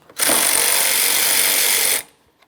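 A power tool, likely an impact or ratchet driver, removing a 13mm mounting bolt above the washer fluid reservoir on a Jeep Patriot: a single loud, buzzing burst lasting about two seconds, then silence.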